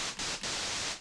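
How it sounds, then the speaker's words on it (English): White noise from a simple operator in an Ableton synth, a steady full-band hiss sounding alone at constant loudness with two brief dips. "White noise will look and sound like this"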